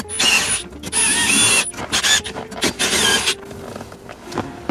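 10mm screws are driven into the dash of a Lexus LX 470 with a power driver, giving several short, close whirring bursts with ratcheting clicks that fade into quieter handling noise.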